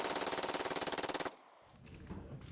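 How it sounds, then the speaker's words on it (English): An illegally converted handgun fires fully automatic as a machine pistol, one loud rapid burst of evenly spaced shots lasting a little over a second, then a short quieter stretch with a few faint knocks. "handguns being illegally converted into fully automatic machine pistols, some of which can fire over 30 bullets in 2 seconds"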